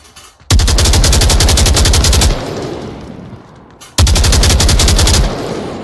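Sustained bursts of rapid automatic gunfire in the VR shooter game Onward, two long loud close volleys separated by a quieter gap of fading echo and ambience.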